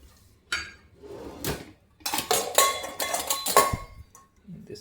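A cereal bowl handled in a home kitchen, giving several ceramic clinks and knocks in a quick irregular cluster at close range, with a few scattered knocks before and after.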